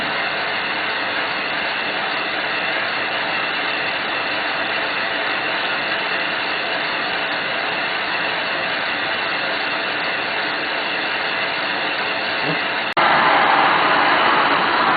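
A player piano air motor, reported in good shape, runs on about two inches of vacuum with a steady, close, even whirring hiss and faint rhythmic clatter. Near the end a sharp click comes, then the sound grows louder and brighter.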